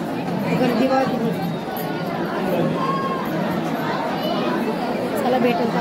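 Steady crowd chatter fills a packed queue at the Ekvira Devi temple, many overlapping voices murmuring close and continuous throughout with no single sound standing out.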